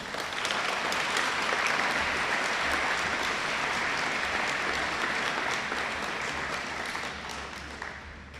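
An audience at a school awards presentation claps steadily for student award recipients, a dense sustained round of applause that holds for several seconds before easing slightly at the end.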